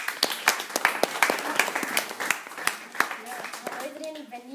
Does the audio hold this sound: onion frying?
no